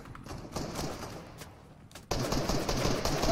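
Rapid automatic gunfire in a video game aimed at a helicopter, bursts of rattling shots that are fairly close, with a louder, denser stretch of firing in the last second.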